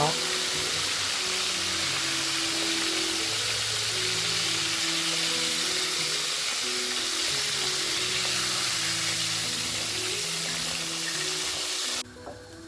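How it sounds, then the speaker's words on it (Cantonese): Continuous loud sizzle of pork cutlets being deep-fried a second time in oil at about 180°C, close up, with background music tones running underneath until it cuts off near the end. "我哋仲要進行復炸嘅。 復炸嘅作用係減少含油量"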